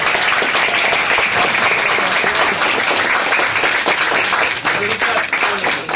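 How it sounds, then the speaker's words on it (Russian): Dense, loud applause from a crowd at a 2019 university graduation ceremony, continuous rapid clapping filling the room from start to finish, with a voice briefly audible beneath it. "еще раз друг другу похлопаем"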